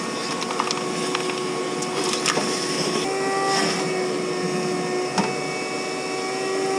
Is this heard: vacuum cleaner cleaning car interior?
yes